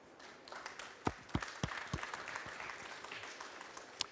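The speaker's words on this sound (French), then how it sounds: "On peut déjà l'applaudir." Audience applauding after a demonstration at a talk about bulk food sales, scattered individual claps building into light, quiet applause, with several sharper claps standing out early on.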